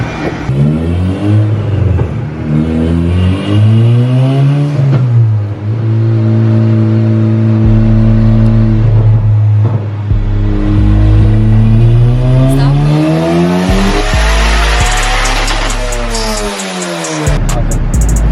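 A turbocharged Honda Civic engine revs hard on a dyno, loud and close, with rising and falling pitch sweeps, sustained high-rpm pulls, and a sharp cut-off near the end.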